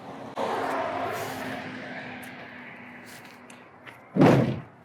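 A Kenworth T680 truck hood is swung down and shut, ending in one loud, heavy thud near the close after a long, low mechanical rumble.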